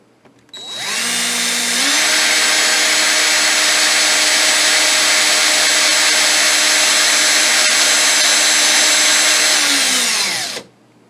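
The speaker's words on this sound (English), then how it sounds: "And then we're just going to twist the wire together." A power drill twisting two kanthal resistance wires together whirs loudly and steadily for about ten seconds, spinning up briefly at the start and winding down at the end, with no talking.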